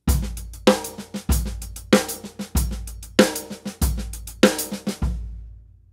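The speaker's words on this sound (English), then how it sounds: "If I put 1 and 3 in the bass drum, it sounds like this." Repeating single paradiddle groove with booming bass drum hits on beats 1 and 3 under hi-hat and snare strokes, steady tempo, played alone before fading out.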